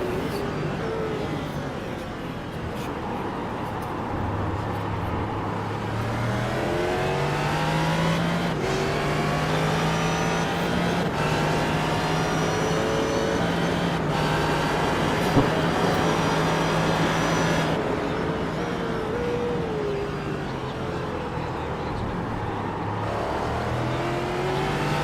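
Race car engine in an iRacing sim at the Daytona 24 Hours, a loud onboard whine climbing repeatedly through the gears, with other cars droning past, steady and continuous throughout.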